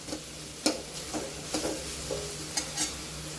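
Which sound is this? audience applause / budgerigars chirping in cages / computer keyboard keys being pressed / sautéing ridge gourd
sautéing ridge gourd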